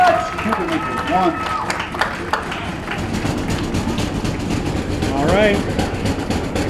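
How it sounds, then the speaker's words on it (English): A home crowd cheers and roars steadily at a high school basketball playoff game between Mukwonago and Kimberly, dense continuous noise with a commentator talking over it throughout. "Crowd's going wild."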